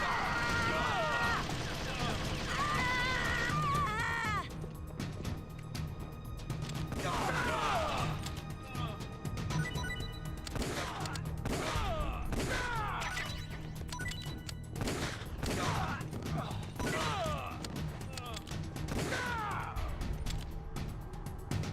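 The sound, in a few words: gunfire in the video game Metal Gear Solid: The Twin Snakes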